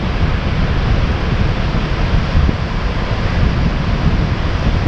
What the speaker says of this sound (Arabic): راه الحجر ديال الحي ديال المسجد كيرضخ فيه البحر